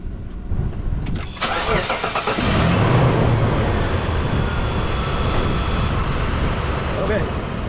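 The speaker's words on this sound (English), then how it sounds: "So let's go ahead and start the engine now and check the fuel pressure." A Mitsubishi Montero engine cranks briefly and catches, then settles into a steady, loud, close idle that runs to the end with no talk over it.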